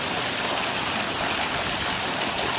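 Water from a small garden hose running at low pressure pours into a backyard pool, a steady, unbroken rushing and splashing hiss with no voices.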